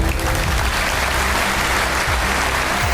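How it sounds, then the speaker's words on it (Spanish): Sustained audience applause at an event honoring the president of El Salvador fills the stretch, dense and steady from start to end with no pauses. "quiero que le demos un gran aplauso"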